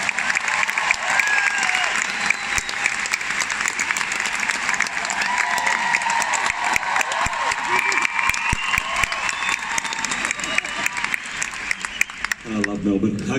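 Big, sustained applause from a concert crowd at Melbourne's Rod Laver Arena, thousands of hands clapping with some cheering mixed in, fading as a voice starts to speak at the end.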